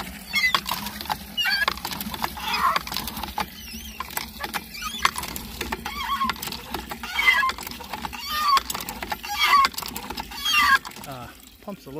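A hand pitcher pump drawing well water on a homestead, squeaky repeated metallic strokes with rhythmic creaks and splashes, close and fairly loud, with chickens clucking nearby.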